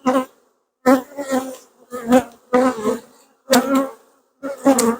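Honeybees at an open hive during an inspection buzz in loud, close, wavering bursts, rising and fading in several separate swells with brief quiet gaps between them.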